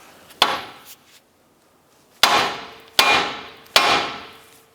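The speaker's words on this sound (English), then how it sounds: "I'm going to strike the knuckle with a hammer, and that should jar the tie rod end loose." A hammer strikes the steering knuckle of a 2008–2013 Nissan Rogue to jar the outer tie rod end loose: one sharp metallic blow, a pause, then three more loud ringing strikes in quick succession, close up.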